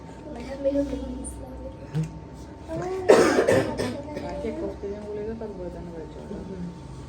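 A single harsh cough bursts out mid-conversation in a hospital, loud and close, while people talk quietly before and after.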